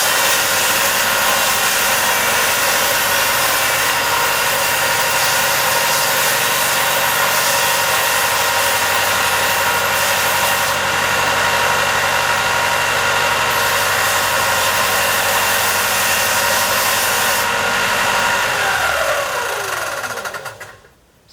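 A belt sander trues the edge of a guitar body, a loud, steady whirring grind that runs without a break for about twenty seconds before the motor winds down and stops.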